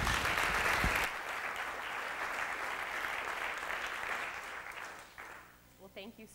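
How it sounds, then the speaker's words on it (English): Audience applause welcoming a speaker to the stage, loud at first, then thinning out and fading as a voice begins talking near the end. "So I would like to ask you to please applaud Kristin as we hear her story."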